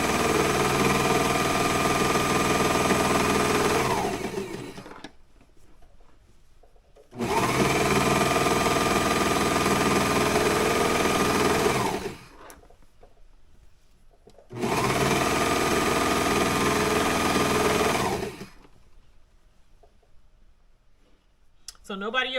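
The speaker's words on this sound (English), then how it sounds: "I'm just going to finish it off with the serger." A serger sewing machine finishes a seam in three sustained bursts of fast, buzzing stitching, each about five seconds long, separated by short quiet pauses, recorded close up.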